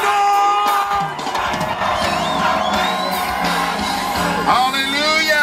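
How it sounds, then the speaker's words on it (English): A rally crowd cheers together with loud whoops, shouts and yells, including high children's voices, a dense, continuous roar close by. "all cheering together for marriage"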